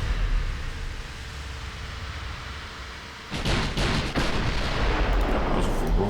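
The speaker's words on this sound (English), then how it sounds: "That was a full broadside." A warship's full gun broadside in the naval game Ultimate Admiral Dreadnoughts: after a low rumbling lull, a cluster of several sharp booming shots erupts in quick succession, loud and close, followed by rolling reverberation.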